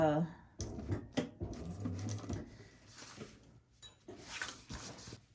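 A home sewing machine stitching a painted zip pouch, running in several uneven bursts with stops and restarts, close and fairly loud, with a brief stretch of talking near the start.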